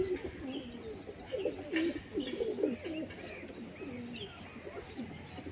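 Pigeons coo continuously, several low throaty burbling calls overlapping in a steady stream, with occasional higher chirps and a faint noisy background.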